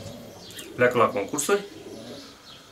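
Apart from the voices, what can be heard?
racing pigeons cooing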